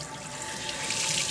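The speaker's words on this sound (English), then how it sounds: "So you rinse with cold water first to stop the reaction of the soda ash" Cold tap water pours steadily over a tie-dyed shirt being rinsed in a sink, a continuous close hiss of running water with no voices.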